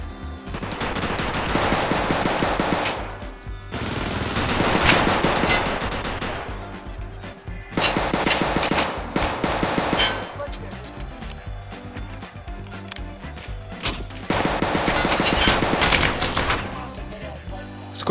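Automatic gunfire in Escape From Tarkov: Arena, loud sustained bursts of rapid shots separated by brief pauses, with a voice talking intermittently.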